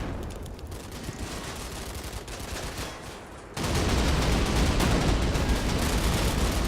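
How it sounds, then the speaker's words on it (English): Continuous gunfire in a firefight in the Combat Mission: Battle for Normandy video game, dense overlapping shots and machine-gun bursts that swell to a louder, heavier barrage halfway through. "Not sure if we're gonna win this firefight."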